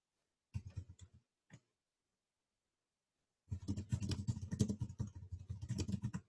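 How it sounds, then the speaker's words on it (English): Computer keyboard typing in short bursts: a brief patter of keystrokes, a single tap, then a pause before a longer, denser run of fast clicking, fairly close and clear. "Let me type."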